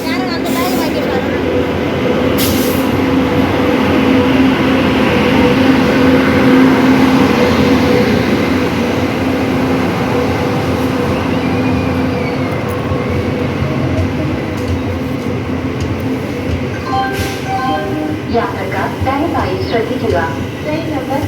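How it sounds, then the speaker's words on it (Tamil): At a railway station in Kerala, a train arrives at the platform with a heavy, continuous rumble and rolling noise, loud and close, while people talk over it and brief squeaks and clanks rise near the end. "ட்ரெயின் வந்துருச்சு, இந்த ட்ரெயினில் தான் போகிறோம்."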